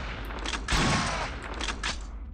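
An enemy weapon firing in the SHOGO: Mobile Armor Division video game, a loud roaring blast that sustains for about half a second, followed by several weaker, fainter bursts.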